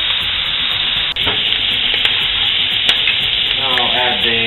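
Meat sizzles steadily in a hot pan for fideua, a continuous bright frying hiss with occasional stirring clinks and scrapes, loud and close with no talking.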